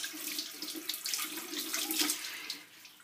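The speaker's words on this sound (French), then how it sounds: "je vais rincer avec ce gant de toilette" Water runs steadily from a bathroom tap into a sink while a face mask is rinsed off with a washcloth, a continuous close splashing stream with no talk.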